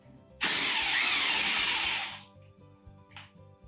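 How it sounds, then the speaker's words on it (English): Impact wrench taking off the clutch and variator bolts on a Yamaha Zuma 50cc scooter CVT, one loud rattling burst of about a second and a half close by, then a short faint blip. "Now, you would use your impact wrench. You take off the 2 bolts on the clutch and the variator."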